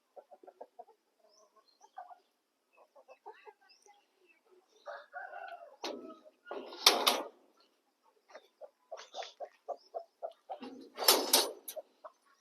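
Broody hens and a rooster in an indoor breeding room cluck in scattered bursts, with a loud crow standing out twice among the softer clucks, fairly close and otherwise quiet.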